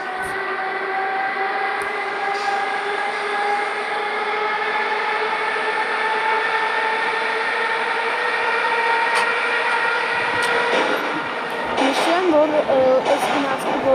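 Eight-car metro train on the Armenian subway, heard from the driver's cab as it accelerates after an unexplained stop, with a steady rising motor whine and rail rumble, a sharp squeal near the end, and a voice speaking over it.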